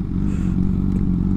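A Kawasaki Z900 motorcycle riding, its engine giving a steady low droning rumble with wind noise, loud and close, continuous throughout.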